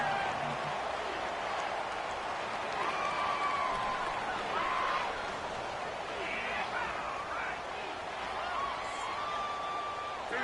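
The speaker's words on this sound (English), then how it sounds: "the crowd getting into it as we come up on a big 3rd down" Steady crowd roar with cheering from a stadium in an American football video game, a broad wash of noise under a 3rd-down build-up, holding at a constant level throughout.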